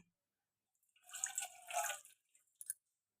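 Tamarind water, soaked tamarind pulp for ulava charu, poured into a bowl, giving a short wet splashing trickle of about a second and a half followed by a few brief drips, close and fairly quiet with no talk.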